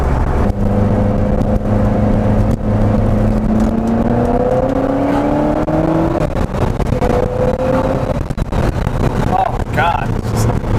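A 1999 Lotus Esprit V8 drives along with its engine droning steadily and pitch rising and falling through gear changes, heard from inside the cabin with wind noise and occasional speech over it.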